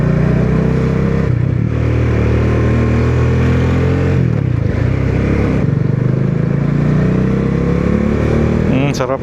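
A Bajaj Dominar 400 motorcycle rides steadily along a relaxed university campus road, its engine drone loud and constant with gear shifts and throttle swells, with a voice talking over it.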